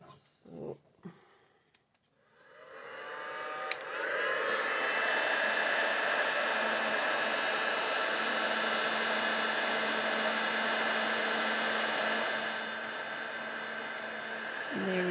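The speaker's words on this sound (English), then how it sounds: "So I'm going to pop the heat tool on now, just to dry that off." A heat tool blasts hot air to melt embossing powder on a stamped rose design, a steady loud roaring whoosh that starts after a few clicks and runs without a break, easing slightly near the end.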